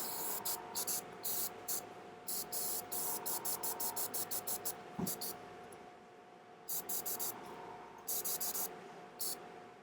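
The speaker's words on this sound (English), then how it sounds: "when we spray the colors over the top" Short repeated bursts of an airbrush spraying paint over Battletech miniatures, quiet hissing puffs in clustered rhythmic groups with pauses between, faint and close.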